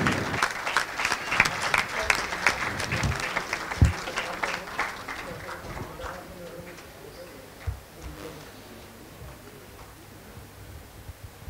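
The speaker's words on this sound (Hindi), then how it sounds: "जोरदार तालियां बजती रहनी चाहिए प्लीज" Loud audience applause at an international conference on infant nutrition, heavy clapping from a crowd that is strongest at first and then thins and fades to a quieter tail, with a few scattered claps near the end.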